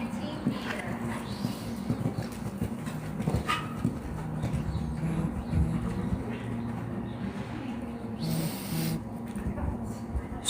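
Horse hooves clop steadily on soft ground with a few snorts and shuffles during a dressage show, under continuous low background rumble and occasional faint voices.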